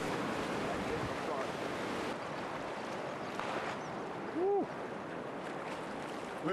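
Boat pushing through river white water, a broad continuous rushing of water and wind noise, steady and close, with a brief tonal wail rising near the end.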